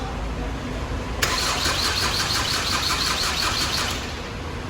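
A Ford Connect engine, freshly rebuilt, is cranked over for about three seconds with a rapid rhythmic churning against a steady background hum, then the cranking stops.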